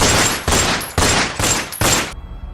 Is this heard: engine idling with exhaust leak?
no